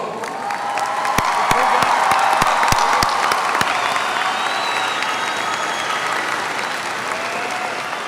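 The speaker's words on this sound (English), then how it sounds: "Let's give our graduates a big round of applause." A crowd at a high school graduation ceremony gives the graduates loud, sustained applause, with a few sharp nearby claps early on and scattered cheers mixed in.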